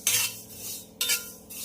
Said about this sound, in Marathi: आता मी सफेद तीळ टाकलेत आणि ते पण छान असे खरपूस भाजून घेते